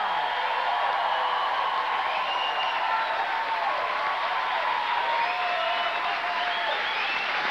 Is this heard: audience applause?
yes